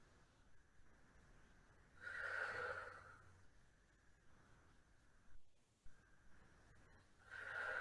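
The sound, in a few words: mindfulness breathing demonstration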